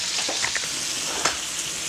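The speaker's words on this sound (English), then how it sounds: "we're going to flip it a couple times, get the bacon nice and brown" Bacon frying in a hot pan, a steady dense sizzle with scattered crackles and pops, close and continuous with no talking.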